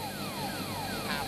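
A helicopter's engine and rotor drone steadily during a sea rescue, with a sweeping whine gliding repeatedly over a continuous broadband roar, close and fairly loud.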